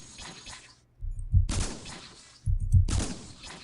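Flak cannons fire in the sci-fi robot game Cogmind, two loud bursts of rapid booming shots with crackling debris, each about a second and a half long, separated by a short pause, with no talk.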